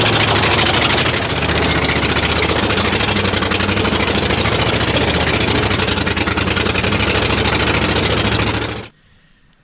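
A machine's engine, recently troubled by a battery that kept going dead, runs loudly and steadily up close with a rough, rumbling idle for about nine seconds, then cuts off abruptly into near silence.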